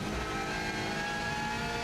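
Subaru Impreza rally car engine screaming at high speed on a record TT lap, a loud sustained in-car drone with steady harmonic whine and no pauses.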